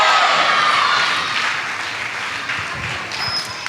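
Audience applause at a Christmas programme, a dense steady patter of many hands that runs throughout and eases off slightly toward the end, with no voices over it.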